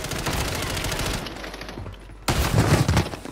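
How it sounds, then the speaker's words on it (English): Loud shotgun blasts in Call of Duty, dense booming fire for over a second, a brief lull, then another heavy burst of shots up close. "Ay, shotgun!"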